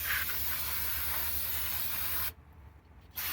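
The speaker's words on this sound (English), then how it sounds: "brake cleaner. Cleans and dries quickly, so you no need to rub. So we'll just spray down all this crap." Brake cleaner sprays onto the front brakes of a 2020 Hyundai Elantra SE with a loud, steady aerosol hiss that cuts out for under a second and then resumes.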